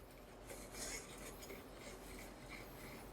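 Flour, baking powder and salt for fluffy pancakes are stirred together in a bowl, giving a quiet, continuous scraping and rubbing with faint utensil scratches throughout.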